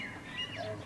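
A bird gives a single brief squawk outdoors, fairly faint against low background noise.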